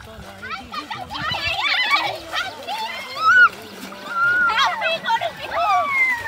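Cattle and people splash into a river during the Goru Bihu festival in Assam. Water sloshes and splatters beneath a lively crowd of shouting adults and children, with high calls and whistles throughout.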